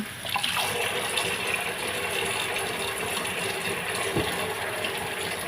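Beans are rinsed under a running kitchen tap, a continuous loud gush of water with small splashes and clatter from handling, close and steady without speech.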